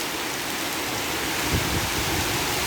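Heavy storm rain pours down in a dense, loud, continuous hiss with no breaks, while a few low thuds briefly rise beneath it.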